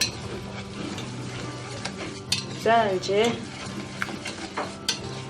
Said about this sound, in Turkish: Şimdi tel çırpıcıyla şöyle